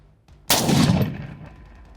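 A single loud, close gunshot from a .308 pistol firing Tula 165-grain soft point ammunition, a sharp blast with a short decaying tail after a brief quiet lead-in.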